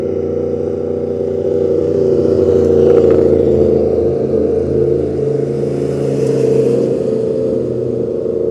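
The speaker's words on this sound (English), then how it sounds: "And always a popular motorcycle road." A motorcycle on a popular rural road in California's Gold Country near Hornitos, a steady loud engine drone that swells and fades slightly as it passes, heard alone without talk.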